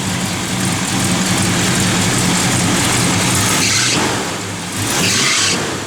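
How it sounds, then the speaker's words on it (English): A 1968 Plymouth GTX engine runs with a squeaking belt, a loud, steady, low rumble close by with a couple of brief swells, and no talking over it. "Little belt squeaking"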